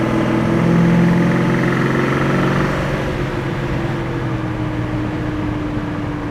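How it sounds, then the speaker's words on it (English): A 1967 Pontiac GTO engine pulls under throttle with a steady, loud, close droning roar that swells briefly early on and then holds an even tone as the car moves. "You step on the throttle and the car moves."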